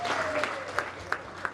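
A Congolese youth party crowd in Baltimore gives applause for an honoured elder, a soft wash of clapping with several sharper, louder claps spaced at regular intervals, while someone talks over it.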